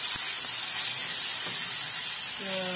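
Blended spice paste with daun kesum and bunga kantan hisses and sizzles steadily in a hot pan while being sautéed for asam pedas, a continuous close frying sound with a couple of faint knocks.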